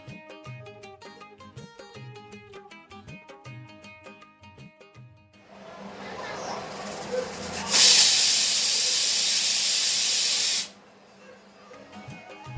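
Loud, steady steam hiss from a pressure cooker boiling kidney beans erupts after a stretch of music and builds, sustained for a few seconds before cutting off sharply.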